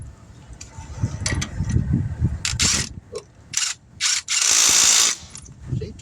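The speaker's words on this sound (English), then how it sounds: "I'm going to use impact here." An impact wrench working on the wheel lug nuts of a 2007 Ford Expedition during tire repair, giving several loud, close bursts of rattling hammering between quieter mechanical handling.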